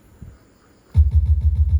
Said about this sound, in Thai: ศูนย์ห้าเป็นกระเดื่องครับ